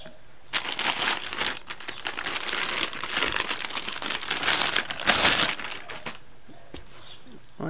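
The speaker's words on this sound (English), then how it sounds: "Let's pull it out of the bag so you can see." Crinkling plastic bag as a Ryobi battery jigsaw is pulled out during an unboxing, a steady rustle of several seconds with brief louder crackles near the end, close and fairly quiet with no talk.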